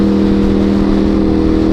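A car engine revs hard and holds a loud, steady droning roar close by throughout the short burst, with no voices.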